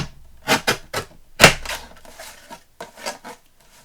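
Edges being trimmed off a piece so it will fit, heard as a close run of sharp snipping clicks, several quick loud cuts early and softer, sparser ones trailing off, with no talking.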